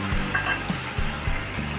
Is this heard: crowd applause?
no